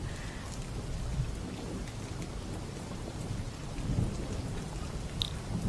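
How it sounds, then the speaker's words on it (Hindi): Steady heavy rain pours down with a dense hiss, punctuated by faint patters and a low rumble underneath. "बाहर इतनी बारिश हो रही है ना"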